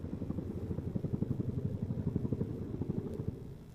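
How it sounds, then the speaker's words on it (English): A synthetic helicopter sound: a steady low rotor thump with rapid rhythmic pulses, continuous and moderately loud throughout. "So here's a helicopter synthesized from the biologically plausible model."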